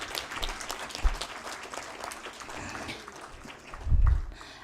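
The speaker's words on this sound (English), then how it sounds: "Please give a big round of applause." An audience at a conference valedictory event applauds in a steady, moderate clatter of many hands, with a couple of low thumps from the microphone and room noise.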